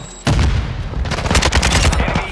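A shotgun fires in a video game: loud, dense blasts start abruptly after a brief quiet moment and continue in rapid, overlapping bursts to the end.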